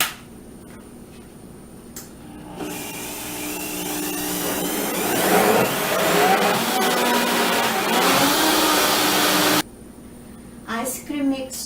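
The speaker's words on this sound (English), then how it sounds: "Now we are going to blend it until creamy." A blender whirs loudly and steadily for several seconds as it purées a vegan ice cream mixture of ingredients with salt and vanilla, starting after a brief quiet moment and cutting off abruptly near the end.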